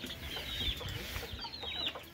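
Poultry cluck softly in a hot-weather coop while being sprayed with water, with a steady hiss of spray and scattered faint clucks and rustling throughout.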